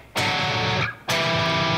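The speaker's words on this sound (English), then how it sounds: "Slow it down using YouTube's speed feature, and you're going to notice it sounds like this" Isolated distorted electric guitar from a song, slowed down, ringing two sustained dyads one after another with a brief dip between them, loud and dense with no voice over it.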